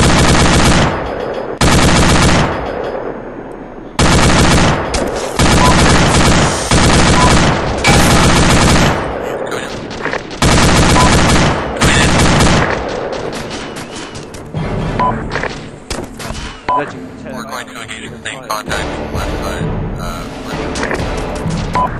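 Video game gunfire in ARMA 2: loud, close bursts of automatic rifle and machine gun fire in rapid repeated volleys with brief pauses, thinning into scattered shots and rattling fire later, with no voices over it.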